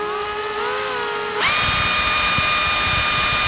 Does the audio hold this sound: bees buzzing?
no